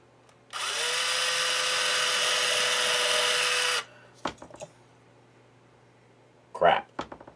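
A power drill whines steadily for about three seconds, close and loud, drilling into a bass guitar kit body, then stops; a few brief knocks and murmured speech follow.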